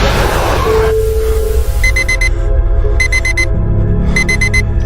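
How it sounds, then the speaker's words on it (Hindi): An alarm clock rings loudly in repeated bursts of bright, pulsing electronic beeps, sounding right up close with short gaps between the groups of tones. "अलार्म की आवाज सुन संजीव की नींद खुली।"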